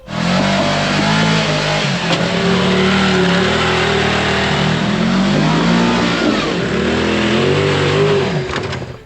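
A loud side-by-side off-road vehicle engine revs up and down repeatedly, its pitch rising and falling in waves, close by and continuous with no talk.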